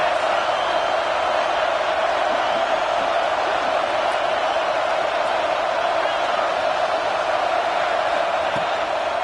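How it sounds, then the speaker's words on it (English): A home crowd at an Oregon college football game roars steadily on third down, a dense, loud, sustained wash of cheering from the stands with no break. "Here comes this home crowd as the defense tries to get off the field on 3rd down."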